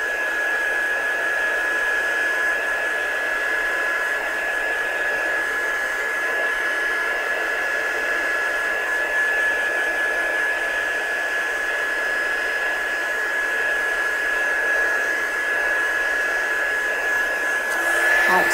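A hair dryer or heat tool blows steadily to dry pigment stencil ink for a tattoo stencil, a continuous close whirring hiss with a high whine that holds unbroken from start to finish.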